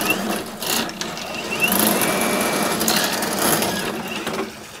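Milwaukee sewer drain cleaning machine running steadily at close range, a continuous whirring, grinding motor drone with brief louder surges.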